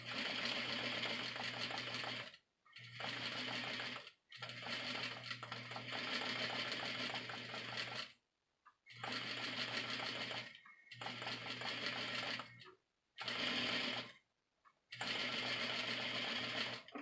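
A sewing machine stitches a cape in close, loud bursts of steady whirring, stopping and restarting about seven times with short silent gaps between runs.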